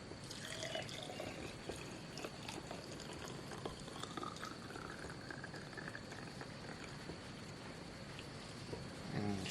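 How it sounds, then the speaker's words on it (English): Melted candle wax, recycled from used candle sticks, is poured into a mould, producing a faint continuous liquid trickle throughout with a low background hiss. "I'm just going to hold that up like that and basically start pouring."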